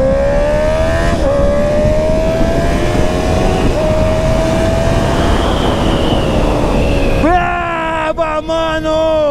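A 2022 Honda CR 650 R with an Atalla 4-into-1 stainless steel 304 exhaust revs up through the gears, its rising engine note dropping at a shift, then idling with a burble.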